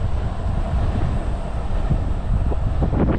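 A train rumbles past in Shibuya, Tokyo, with a loud, steady low roar and gusty wind buffeting the microphone, building slightly toward the end.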